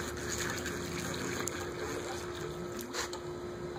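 A pool vacuum hose being fed down into swimming pool water gives a steady, close gushing and bubbling wash of water that runs without a break, with no talking.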